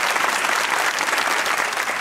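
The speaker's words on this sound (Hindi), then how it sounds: "इनके लिए तालियां होनी चाहिए" A studio audience at a comedy talk show applauds in a thick, continuous burst of many hands clapping, loud and close, with no pauses over the short stretch.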